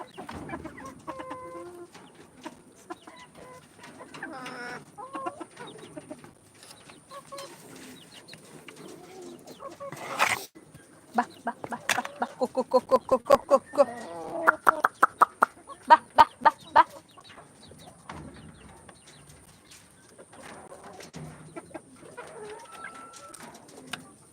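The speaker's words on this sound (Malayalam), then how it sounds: "എന്താ കരിങ്കോഴി പിടക്കോഴിയുണ്ട് പൂവനും ഉണ്ട്" Black Karinkozhi chickens, hens and roosters, cluck and squawk in a quiet yard, the calls thickening into a busy run of rapid clucks midway before settling again.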